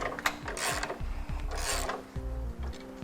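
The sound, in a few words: spare tire being reinstalled under a 2010 Mazda CX-9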